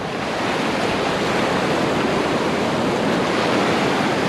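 Sea waves wash steadily onto a pebbly beach in a rough, choppy sea, a loud continuous broadband surf roar with some wind, heard close and alone with no talking.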